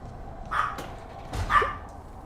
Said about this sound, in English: little doggy baby saying hi